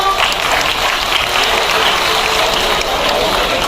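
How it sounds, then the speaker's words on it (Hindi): Loud, sustained applause from a large crowd, dense clapping filling the whole stretch without pause. "जोरदार तालियां"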